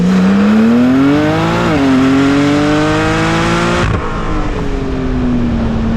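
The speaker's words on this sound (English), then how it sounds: "This is the Porsche 992 Turbo S, and it is absolutely insane." A Porsche 992 Turbo S, near stock, accelerates hard, its engine rising steadily in pitch before a gear change drops it, then climbing again loud and close, with no talk.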